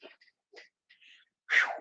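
A single close, loud human sneeze bursts out at the end, after a few soft breathy sniffs and faint intakes of breath.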